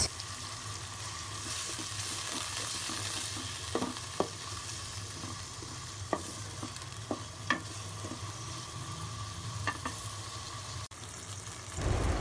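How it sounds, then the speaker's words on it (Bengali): Grated carrot, peas and green chillies fry in ginger-garlic spice paste for chicken tehari, a steady close sizzle broken by scattered clicks and scrapes of stirring, with no voices. "মশলাটাকে ভালো মতো কষিয়ে নিয়ে আমি দিয়ে দিব গ্রেট করা গাজর, মটরশুঁটি আর কয়েকটি কাঁচামরিচ"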